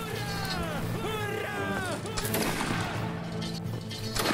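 Musket volleys crackle in a Napoleonic Wars battle game, with scattered shots and crashing impacts layered over a dense battlefield din and distant shouting, while a voice talks over it.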